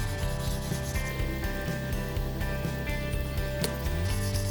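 Aluminium is wet-sanded by hand with 2000 grit sandpaper, giving a close, continuous rubbing and scratching sound with quick back-and-forth strokes.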